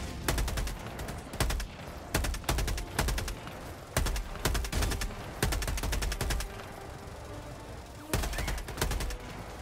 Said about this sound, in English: Yo, they're fucking shooting.